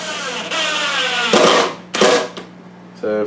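A power drill drives drywall screws during setup of a MEC Mark V shotshell reloading press, with loud close motor whirs in two bursts, then a short rattling tail.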